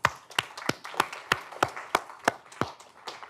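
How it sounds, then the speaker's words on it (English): Students in a university lecture hall clap at the end of a semester, about a dozen sharp, evenly spaced claps that fade slightly, fairly close and sparse rather than a full ovation. "So a round of applause for you all as well."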